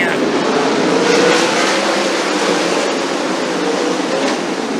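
Sprint cars race on a clay oval at the King of Wings meeting in Perth, their engines blending into a loud, continuous roar that swells and fades slightly as the pack passes.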